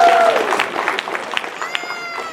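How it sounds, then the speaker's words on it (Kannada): Audience applause at a Kannada association program in Albany, NY, a dense, steady patter of many hands clapping with some voices mixed in, fading slightly toward the end. "ಒಂದು ಜೋರಾದ ಚಪ್ಪಾಳೆ ಬರಲಿ"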